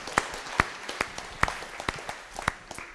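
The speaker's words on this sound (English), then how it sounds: "let's give him a round of applause." Sparse applause from a small audience at a startup pitching session, a few scattered sharp claps over three seconds, fairly quiet with faint background murmur.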